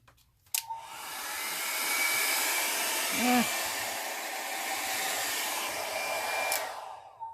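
Hair dryer blowing on alcohol ink artwork of a flower, a steady loud whoosh switched on and running for several seconds before cutting off, with a brief small knock partway through.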